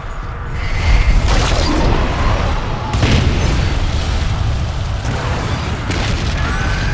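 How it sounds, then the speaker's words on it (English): Lord of the Rings: Conquest siege battle: catapult impacts land as repeated deep booms and rumbling blasts over a constant roar of battle noise, heavy and close throughout. "Fire the catapults! Destroy them now!"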